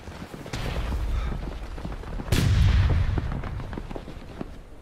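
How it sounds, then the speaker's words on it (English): Musket volley fire in the video game War of Rights: a massed, booming crackle of muskets bursts out midway, with scattered shots and rumbling battle noise around it. "Firing by volley. Ready. Fire!"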